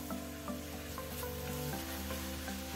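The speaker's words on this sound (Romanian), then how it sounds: "Acum adăugăm și mărarul verde. Și amestecăm." Sweet cabbage with fresh green dill sizzling and being stirred in a pan, a steady close frying hiss with faint scraping strokes from the spoon.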